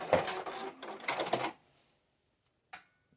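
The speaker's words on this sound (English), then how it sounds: "And then I'm going to sew that 1/4-inch seam." A sewing machine stitches a quarter-inch seam through quilt fabric with pumpkin pieces, giving a close, steady run of rapid mechanical clatter in two bursts. It stops, then comes a single short click.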